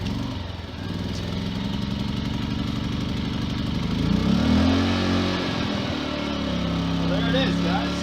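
Amico AIG2000 2000W inverter generator pull-started, then settling into a steady close, loud engine drone with a brief rise in revs partway through; no voices over it.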